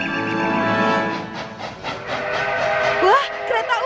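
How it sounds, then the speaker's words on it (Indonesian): A cartoon steam train rumbles and chugs with a layered whistle-like tone, followed by short rising and falling whistle blasts near the end, fairly loud and close. "Wah, kereta uap."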